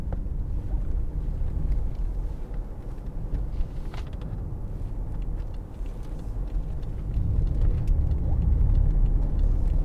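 A 2009 BMW 750Li long-wheelbase saloon cruising on the road, heard as a steady low rumble of road and engine noise with wind buffeting, continuous and fairly loud throughout.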